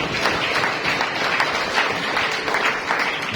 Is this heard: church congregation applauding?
yes